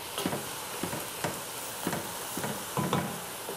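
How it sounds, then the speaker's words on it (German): Onions fry for beef goulash in a pan with a steady close sizzle, broken by several soft scraping stirs at irregular intervals, no voices. "Das müssen wir jetzt ein bisschen braten lassen, so 3-4 Minuten, bis die Zwiebeln halt auch ein bisschen angeschwitzt sind"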